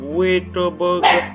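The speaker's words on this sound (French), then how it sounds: "Oui, désolé, c'était mon chien." A pet dog barks close by in three or four quick, loud yaps, with a voice speaking briefly at the same time.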